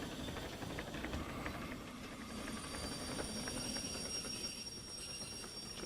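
A train rumbles along in the railway simulation game Derail Valley, a steady, moderately quiet mechanical drone with a hissy top layer that runs unbroken throughout, with no talking.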